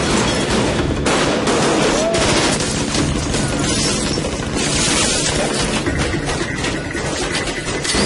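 Dense, continuous automatic machine-gun fire from an action scene in the film Red, loud and unbroken bursts with crashing impacts and shouting voices mixed in throughout.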